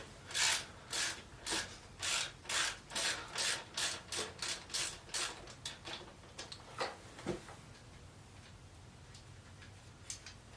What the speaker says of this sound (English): 10mm socket, and we're going to undo this bolt right here